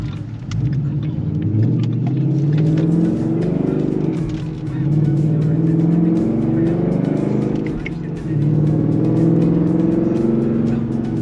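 A car engine rumbles steadily while the vehicle rolls down a hill in gear, its pitch rising and falling in smooth sweeps, close and loud throughout.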